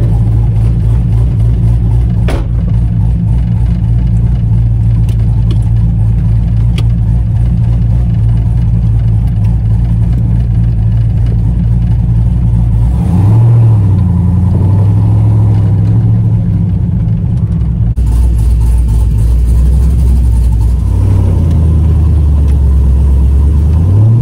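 A 1985 Chevrolet Camaro IROC, third generation, fitted with a T56 manual gearbox and short-throw shifter, drives with a loud, steady engine drone close by. The revs shift and change pitch around gear changes, and no one talks.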